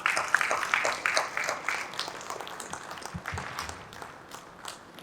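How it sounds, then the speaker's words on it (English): Audience applauds during a felicitation at a natural refrigerants conference session, a moderate wash of clapping that slowly thins out over about five seconds. "Big round of applause"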